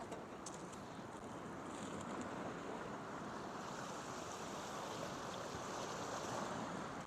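Heavy waves roll and crash continuously against the Duluth canal wall as a huge ship comes in, a steady, loud, churning wash of surf with wind buffeting the microphone.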